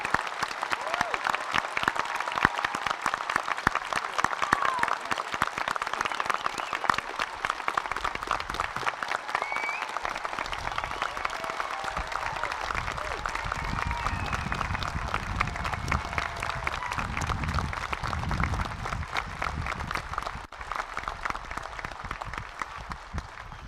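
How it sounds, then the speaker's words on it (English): Applause from a large audience of graduates and families at a high school commencement ceremony, a steady wash of clapping that holds for over twenty seconds before thinning, with faint voices beneath. "let's conclude this ceremony with a round of applause for all of our graduates"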